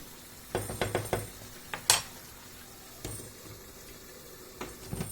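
Butter being stirred into a pan of menemen, with a few sharp clinks of a utensil against the pan in short bursts over a quiet background.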